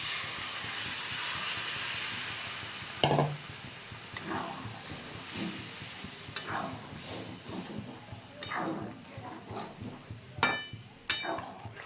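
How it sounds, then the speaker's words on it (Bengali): Water poured into a hot pan of cauliflower for a curry sets off a steady loud hiss and sizzle that slowly fades, broken by sharp bubbling pops and spoon clinks. "এবার জল দিয়ে দিচ্ছি"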